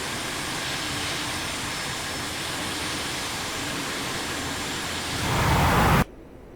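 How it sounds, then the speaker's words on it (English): The A-4E Skyhawk jet engine in the DCS World flight simulator spooling up for a carrier catapult launch, a steady broad roar that swells loudly before cutting off abruptly. "So I am going to hit my throttle forward, and they're just going to shoot me off here in a second"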